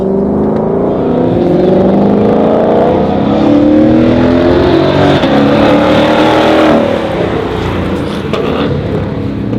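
A car driven flat out around a track, its engine roaring loud and close as it accelerates hard and climbs through the gears, rising pitch sweeping upward and then dropping at each shift.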